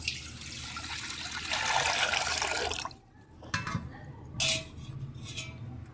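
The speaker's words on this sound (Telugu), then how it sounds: "మొదట మజ్జిగ వేసేసుకుందాము" Buttermilk is poured over chopped green chillies, a close liquid splashing pour for about three seconds followed by a few clinks of a vessel and dripping.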